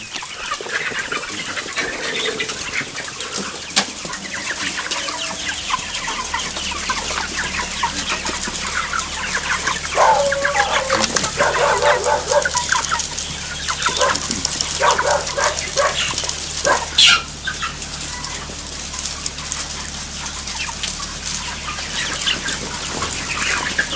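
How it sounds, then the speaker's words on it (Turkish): Chickens cluck and squawk steadily in a poultry production farm in a village, a dense busy chorus of birds with occasional louder calls and a dog barking now and then. "Kosova köyünde e, tavuk üretim çiftliğindeyiz."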